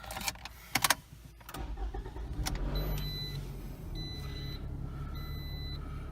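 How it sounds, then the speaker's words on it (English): A car starts, its engine settling into a low idle, and a warning chime then beeps in three evenly spaced tones, clear over the engine hum, inside the cabin of a Toyota Solara. "That beeping noise drives me insane."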